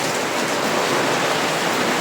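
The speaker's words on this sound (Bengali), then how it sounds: "দেখো কীভাবে প্রচুর পরিমাণে বৃষ্টি হচ্ছে" Heavy rain pours down during a sunshower, a dense, unbroken hiss of falling water that stays steady and fairly loud from start to finish with no voices.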